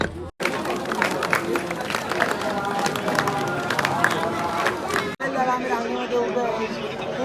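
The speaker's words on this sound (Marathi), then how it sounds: "गर्दी बघू शकता" Pilgrims crowd a goddess temple, and their dense babble of voices and movement fills the space without a break apart from two abrupt cuts.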